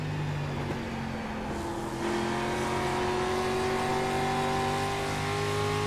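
A street stock race car in the iRacing sim: a steady, loud engine drone climbs in pitch as the car accelerates, with a smooth, continuous rise and no talking.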